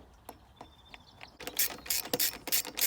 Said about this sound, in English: then we're just going to pop on a washer and tighten on a nut just to hold that in place